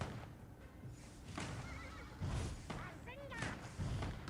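A horse in a video game neighs, a shrill whinny rising and falling twice amid game effects like thumps and hoofbeats, with a player talking underneath.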